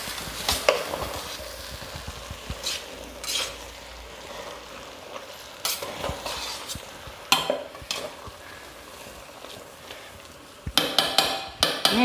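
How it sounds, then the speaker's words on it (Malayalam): Cooked jackfruit puzhukku with coconut oil and curry leaves is stirred in a pot off the heat, with a soft background sizzle and irregular spoon knocks and scrapes against the metal, growing busier toward the end. "എന്നിട്ടൊന്ന് മിക്സ് ചെയ്യുക."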